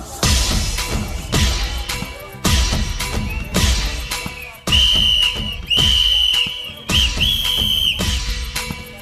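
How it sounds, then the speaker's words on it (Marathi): A loud whistle blows in repeated sharp bursts, about six blasts with brief gaps between them, over a rough, clattering background, sounding as an election-symbol jingle. "शिट्टी"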